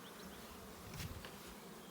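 Bees collecting pollen fill the whole stretch with steady buzzing, a dense continuous hum with one slightly louder swell midway.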